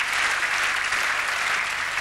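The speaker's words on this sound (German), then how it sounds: "ich habe hier so ein Klatschen in der Leitung" Studio audience at a German comedy show clapping in sustained, dense applause for about two seconds, steady and fairly loud with no voices on top.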